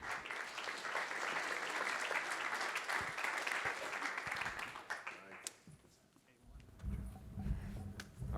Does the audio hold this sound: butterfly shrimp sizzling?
no